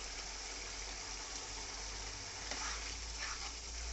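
Fried cumin is sprinkled into a bottle gourd and shrimp curry that keeps up a steady, close sizzle and bubble, with a low hum underneath and no talking.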